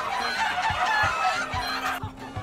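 Flock of chickens in the Minecraft Story Mode game clucking and squawking in a busy, overlapping cluster against a noisy, dense background, fairly close and continuous through the moment.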